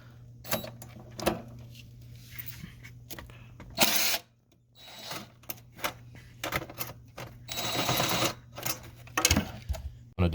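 Intermittent ratcheting clicks in short bursts from a wrench backing off the 11 mm collector clamp nut on a 7.3L Power Stroke engine during engine removal, close and moderately loud, with quiet pauses between.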